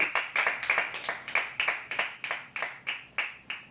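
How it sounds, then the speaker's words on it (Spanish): A church congregation claps in a steady rhythmic beat, about three claps per second, each sharp and evenly spaced, fairly faint and with no talking. "¿Cuánto me le pueden dar un aplauso al Rey de Reyes, Señores de Señores?"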